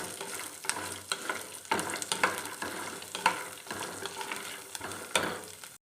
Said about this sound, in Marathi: थोडं हलकं भाजून घेऊ